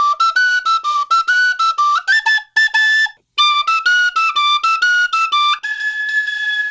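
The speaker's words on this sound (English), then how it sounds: "I've got 2 Irish tin whistles" An Irish tin whistle plays a quick, bright melody of short tongued notes, loud and close, with a brief pause partway through before a held tone rings out at the end.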